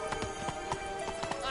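Horse hooves galloping in The Witcher 3, a quick uneven clip-clop rhythm of repeated strikes, close and steady over a dense game music and ambience bed.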